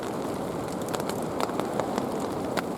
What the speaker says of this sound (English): It's raining now, viewers. The wind's picked up. It's absolutely cats and dogs.